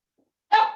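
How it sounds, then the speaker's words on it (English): A single dog barks once, a short clear bark after a moment of silence, fairly close and alone. "That was a dog barking."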